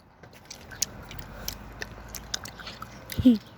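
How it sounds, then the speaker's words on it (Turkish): Gum being chewed close to the mic, soft wet smacks and bites repeating irregularly, with a louder mouth sound near the end and no speech. "Arkadaşlar herkesin çiğnediği anlaşılsın."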